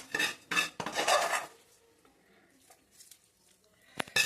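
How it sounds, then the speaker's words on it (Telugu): A spoon scrapes and clinks against a pan as tempering is stirred into tomato and green chilli chutney, a few loud metallic bursts, then quiet, then another sharp clatter at the end. "పోపు వేస్తాం, దాంట్లో కలిపేస్తాం."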